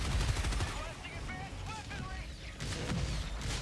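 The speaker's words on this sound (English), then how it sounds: "A lot of explosions going on." Explosions and gunfire from the shooter game Helldivers 2 on Helldive difficulty, deep booms and rattling shots with whistling, warbling effects mixed through the chaotic battle, steady and dense throughout.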